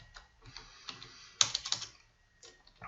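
Fingers typing on a computer keyboard while entering Excel VBA range code: soft, irregular key clicks that cluster in a brief burst near the middle, otherwise quiet and sparse.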